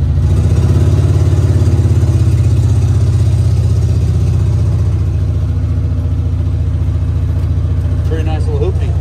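A Cushman that sat parked for 36 years idles steadily after starting, a loud, continuous low engine chug close by with a faint rattle near the end.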